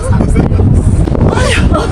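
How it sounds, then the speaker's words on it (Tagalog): Strong wind roars and buffets against the microphone on Fansipan mountain in Vietnam, with people talking and exclaiming loudly over the gusts. "Ay! Lakas ng hangin!"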